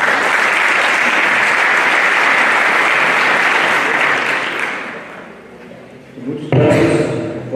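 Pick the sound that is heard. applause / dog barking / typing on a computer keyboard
applause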